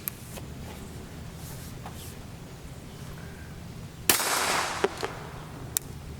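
A CMMG MK57 fires 5.7x28mm copper hollow-point rounds, giving a sharp loud report with a short noisy tail and a couple of smaller cracks afterward over steady outdoor background noise.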